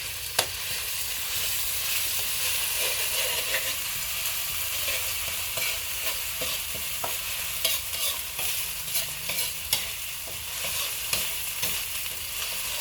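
Steady sizzling of ingredients stir-frying in a hot wok, with intermittent scraping and clinking as they are stirred, continuous throughout with no talking.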